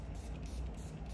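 A short, soft hiss of makeup setting spray being sprayed as a fine mist, close and brief.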